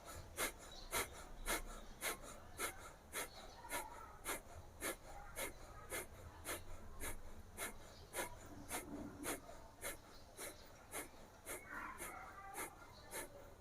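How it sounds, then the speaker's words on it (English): Forceful Bhastrika pranayama breathing, a steady rhythm of sharp, even inhales and exhales repeating about every half second, close and clear, with a soft voice faintly underneath. "Keep your palm same position and inhale and exhale, forcefully inhale and exhalation"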